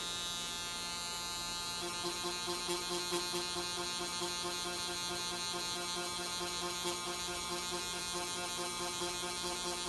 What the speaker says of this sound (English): This machine with this much noise gonna scare the clients.